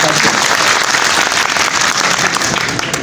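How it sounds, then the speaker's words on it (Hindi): A crowd at a traders' association oath-taking ceremony in Kohati Bazaar breaks into loud, dense applause, a continuous roar of clapping that stays full and close throughout. "इनके लिए भी भरपूर तालियों की दरख्वास्त करता"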